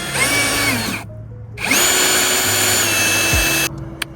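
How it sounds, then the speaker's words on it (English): A power drill bores a 1/8 starter hole for a car splitter kit install, whining loudly and close in two runs with a short pause between them and a high, steady motor pitch. "You wanna get the appropriate drill, I might just use this 1/8 again just to have a starter hole"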